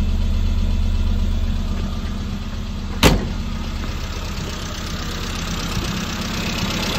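Engine of a classic late Mini 1000 with a stage 1 kit, electronic ignition and a 59D distributor, idling steadily with a constant low rumble and one sharp click partway through.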